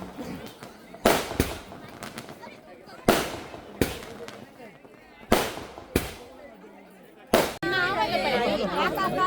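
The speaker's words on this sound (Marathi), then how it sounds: "फटाके फोडायला लागले" Firecrackers burst at a baby's naming ceremony in Konkan, in a sharp series of loud cracks, six or seven spaced a second or so apart, with people chattering in between.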